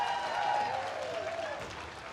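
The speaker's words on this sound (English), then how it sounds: "Give him a round of applause, everybody." An audience applauds at a local community 'Oscars' night in Aughnamullen, a steady wash of clapping from a crowd with a faint tonal sound running underneath.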